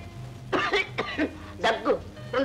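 A man coughs in repeated hoarse bursts, several uneven coughs close together in a quiet indoor scene from an old Telugu film.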